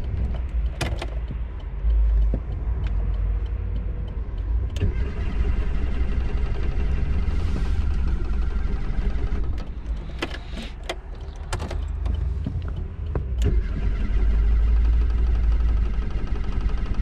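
A Renault 19 car with a steady, loud low rumble running throughout, broken by scattered nearby clicks and knocks like doors or controls being handled. No one speaks.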